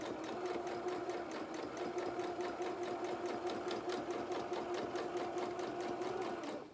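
Sewing machine stitching felt fabric for a doll's body, running at a steady, even pace with a continuous close mechanical hum and rhythmic needle clatter from start to finish, briefly dropping off at the very end.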